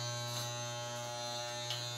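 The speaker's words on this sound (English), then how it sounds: "So I've got the clippers raised to the higher setting" Electric hair clippers buzzing steadily at close range on a higher setting during a home haircut, a constant, unbroken electric drone with slight tonal shifts as the blade moves through hair.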